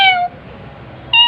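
A cat meows twice close by, one short call at the start and another at the end, separated by a brief near-silent pause.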